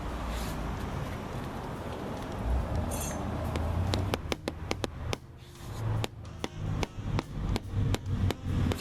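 A metal hammer taps stones into place in quick, sharp strikes, a series of close clicks and knocks on hard material that grows more rhythmic toward the end.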